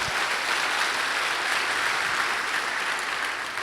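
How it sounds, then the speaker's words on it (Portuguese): Church congregation applauding during a worship service, a full, even wall of clapping from many people that holds steady and loud across the clip, with no speech on top. "Pode aplaudir ao Senhor"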